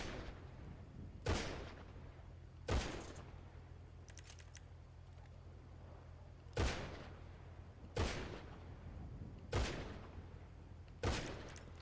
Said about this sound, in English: I think I'm hearing people setting off fireworks now.